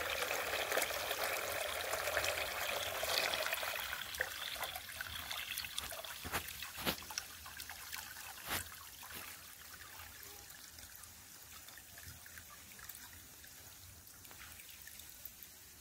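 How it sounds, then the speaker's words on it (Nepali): Water is poured onto young squash seedlings, first as a steady gushing pour for a few seconds, then thinning into quiet trickles and scattered drips. "अब म चाहिँ यसमा पानी हालेर लगेर हुन्छ यसमा राख्नुपर्छ, पानी हाल्नुपर्छ फर्सीको बिरुवामा"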